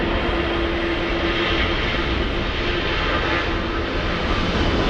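A Boeing 787 airliner taking off at LAX, a loud continuous roar of jet engines with a steady tone, close and constant throughout.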